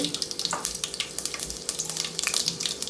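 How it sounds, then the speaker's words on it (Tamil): Mustard seeds and red chillies frying in two tablespoons of hot oil for South Indian sambar, a crackling sizzle with dense rapid popping, close and fairly quiet. "அதில் 2 டேபிள் ஸ்பூன் எண்ணெய் ஊற்றிருக்கிறேன். ரெட் சில்லி, நம்ம"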